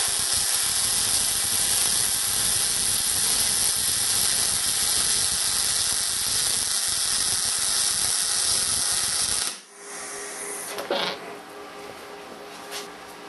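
Steady crackling hiss of an R-Tech Pro-MIG250-1 MIG welder laying a bead, loud and continuous for about nine seconds before cutting off to quieter shop noise.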